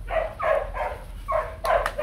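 Three-month-old Rottweiler puppies bark in a quick series of about five short, sharp yips, close and fairly loud with brief gaps between.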